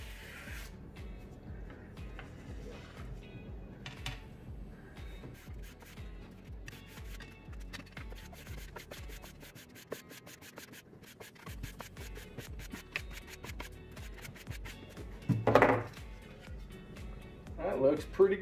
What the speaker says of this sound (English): I'll just very lightly start running some 320 grit.